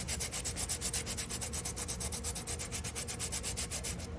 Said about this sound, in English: I just take it and start sanding it down